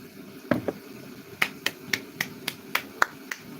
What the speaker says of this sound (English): I've clapped for you.